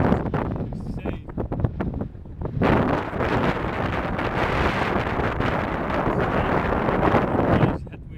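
Strong headwind roars across the microphone while cycling on the road to Norseman, a dense, buffeting rush that builds and holds loud for several seconds before easing, with brief voices in the opening moments.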